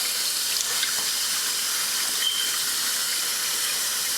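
Water runs steadily from a kitchen tap in a home kitchen, a continuous close hissing splash with no breaks or talking.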